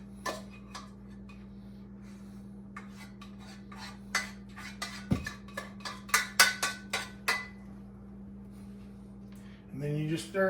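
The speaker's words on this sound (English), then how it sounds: "And then you just stir that in there." Cooked rice being stirred into red beans in a single pot, a scatter of light clinks and scrapes of a spoon against the pot, soft and intermittent, close up with a faint steady hum behind.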